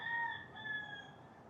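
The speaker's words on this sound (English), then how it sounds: "There's a rooster cawing right now" A rooster crows from a chicken coop, a single drawn-out call heard faintly at a distance against quiet outdoor background noise.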